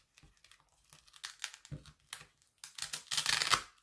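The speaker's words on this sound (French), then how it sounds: "j'enlève ce papier. Je referme et j'appuie bien" Backing paper peeled off a velcro strip and the strip pressed closed while crafting a mini handbag: soft crinkles and small ticks build to a louder rustling peel and a firm press near the end.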